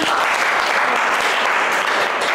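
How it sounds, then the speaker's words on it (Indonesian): A class applauding together, loud close clapping that stays steady and dense from start to finish, with a few voices mixed in. "Tepuk tangan buat kita semua."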